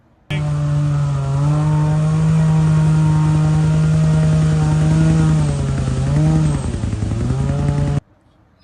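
A Can-Am X3 side-by-side struggles through mud with a loud, steady engine drone that holds one pitch, then dips and rises twice as the revs change near the end before cutting off.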